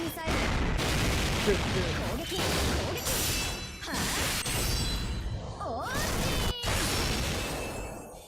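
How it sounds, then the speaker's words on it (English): Mortar strike explosions in a video game, a string of heavy booming impacts separated by short gaps, loud and near, with a voice talking over them. "Mortar strike."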